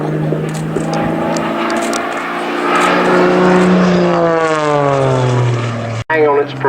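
A propeller aircraft flies a torque roll at an Old Warden air display, its loud engine drone rising and falling in pitch as it passes close, with commentary over it and a sudden brief cut near the end.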